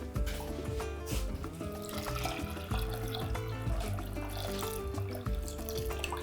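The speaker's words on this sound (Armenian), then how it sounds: "Վրան լցնում ենք սառը ջուր։" Cold water poured over boiled grain in a pot, a continuous splashing, gushing flow like a tap filling a vessel, steady and close throughout.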